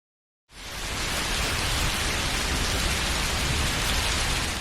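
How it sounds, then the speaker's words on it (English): Steady rain falls at a cabin deck, a dense continuous hiss that starts abruptly after a moment of silence and holds at an even loud level, with no voices. "And it did rain"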